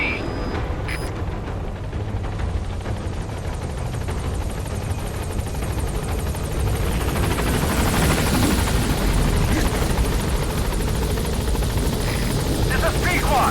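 In Metal Gear Solid V, the Pequod helicopter holds at the landing zone, its rotors a loud continuous thrum that thickens and grows heavier partway through as it lifts off, with radio talk over the roar.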